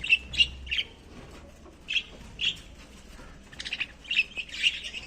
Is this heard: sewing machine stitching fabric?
no